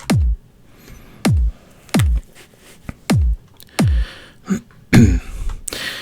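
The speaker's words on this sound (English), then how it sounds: "So the kick sounds like this." Punchy kick drum hits, processed with a FabFilter compressor for a trance track, play in an uneven breakbeat pattern, each thump sharp and tight, separated by short silences.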